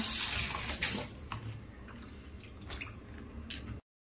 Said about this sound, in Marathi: मम्मीने मच्छी धुवून घेतली